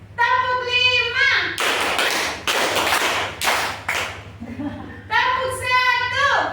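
A classroom group claps in several distinct rhythmic bursts, close and loud, with a voice leading the count before and after.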